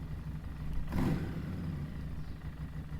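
A Harley motorcycle engine idles steadily around 1500 rpm at low volume, with a brief swell of louder rumble near the start.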